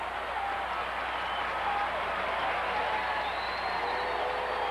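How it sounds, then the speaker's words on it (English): A baseball crowd at Oriole Park drones on with a broad, sustained roar of voices chanting Moose, steady and distant without distinct claps or breaks. "And the crowd shouting Moose."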